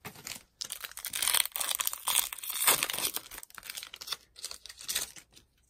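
Crinkly plastic and foil of a Pokémon card blister pack being torn open by hand, a close, continuous run of crackling and ripping bursts with brief pauses, no voices.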